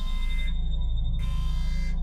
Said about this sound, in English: The object was the source of the rhythmic pulses.